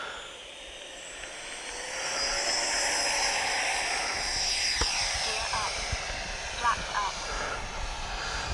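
A Freewing F-22 radio-controlled model jet flies by, with its afterburner producing a steady jet roar that swells and holds across the whole stretch, loud and close.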